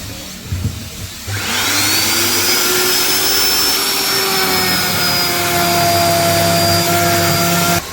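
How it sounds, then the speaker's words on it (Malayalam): A power carving machine whines up to a loud, steady high-pitched scream as it cuts lines into a wooden door, holding its pitch for several seconds after a brief quiet start. "ഈ വരയുടെ പുറത്ത് നമുക്ക് മിഷീൻ അടിച്ചു കൊടുക്കാം"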